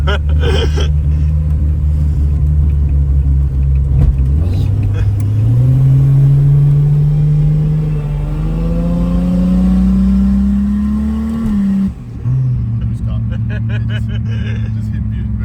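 A turbocharged RB30 six in a VL Commodore revs hard under load, its deep droning note climbing steadily before abruptly cutting out at boost cut, then resuming at a lower pitch; loud, close and continuous.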